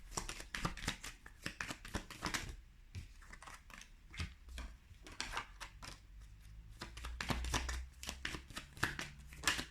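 Tarot cards are shuffled close up in quick, continuous riffles and taps, pausing briefly before resuming, with no talking.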